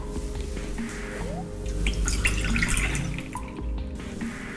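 Water runs and splashes steadily into a kettle close by, with small drips and clinks over a continuous trickling pour.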